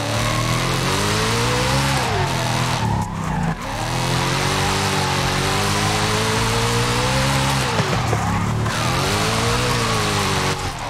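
Naturally aspirated 4-litre V8 drift car in Forza Horizon 5 revving hard, its engine note rising and falling through repeated climbs and dips with brief tire squeal, loud and continuous without talk.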